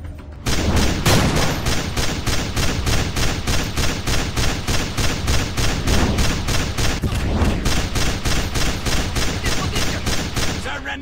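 Sustained rapid automatic gunfire from the mobile shooter FPS Commando, a loud, dense stream of regular shots lasting about ten seconds after a brief quiet start, with a short break near the seven-second mark.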